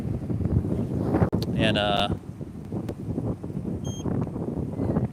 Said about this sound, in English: there's some pretty significant wind picking up